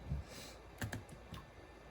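Several sparse, fairly quiet key clicks on an old Pentium 3 laptop keyboard, a few isolated presses spread across a soft background hiss with no talking.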